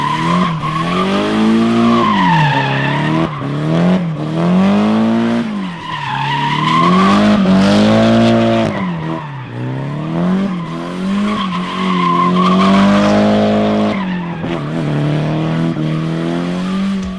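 A car drifts in a sustained slide, tires squealing and skidding loudly over a revving engine, the pitch sweeping up and down in repeated waves for the whole stretch.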